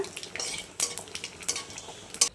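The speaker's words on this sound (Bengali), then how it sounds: "ফোড়নটা খুব সুন্দর ভাজা হয়ে গেছে" Whole spices tempering in hot oil (cumin, dried red chilli, cinnamon, cardamom and bay leaf) with ginger paste, a soft crackling sizzle broken by several sharp scrapes and clinks of a spatula stirring.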